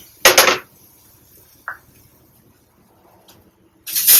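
Pots and utensils clatter in a home kitchen while vermicelli payesh is being made, with a sharp metallic clang at the start, a small clink midway, and another clatter at the end amid near silence.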